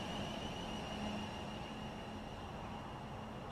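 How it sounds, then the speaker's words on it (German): The onboard compressor of a Class 700 train in Train Sim World 2022, a steady droning hum with a faint tonal whine mixed into the train's continuous rumble, heard from outside with no voices. "Aber man hört sogar teilweise den Kompressor mit raus."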